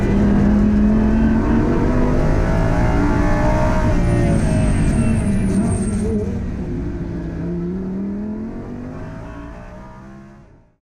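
Race car engine revving hard with loud, sweeping pitch changes, holding steady and then fading out near the end.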